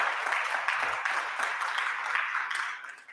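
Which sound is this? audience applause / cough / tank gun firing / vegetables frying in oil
audience applause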